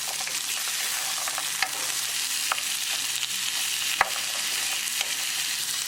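Chicken breast with salt, black pepper and cumin powder is stirred in a hot pan, a steady sizzling hiss broken by occasional sharp utensil knocks against the pan, close and moderately loud.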